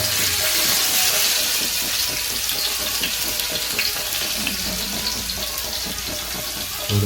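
Garlic and cumin sizzle in a hot pan with a steady, loud hiss and crackle that runs unbroken throughout, with no talking.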